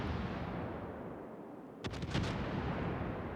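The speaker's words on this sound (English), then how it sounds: "taking some Schlieffen fire under the Schlieffen secondaries and his main battery" Schlieffen warship secondaries and main battery guns firing in a World of Warships match, heard as a quick cluster of several booming shots midway through over a steady roaring ambient wash.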